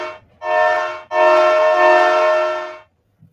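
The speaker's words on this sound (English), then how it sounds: "if you want to blow the horn, just tap your space bar" A train horn sounds in the Minecraft Trains addon, one short blast followed by a longer held blast, loud and near, with no talk.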